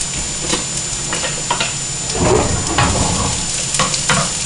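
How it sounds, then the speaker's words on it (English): Chopped onions sizzle steadily in a hot pan for a chunky meat sauce, a close, continuous crackling hiss with occasional light clicks and pops. "sizzling in there."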